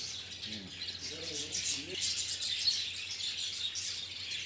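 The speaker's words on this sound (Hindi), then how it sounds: "ये कैनरी" Chirps and tweets from caged birds, including canaries and finches, at a large pet bird market in Dubai. The bird sounds form a steady high chatter over a noisy indoor background, and someone speaks briefly.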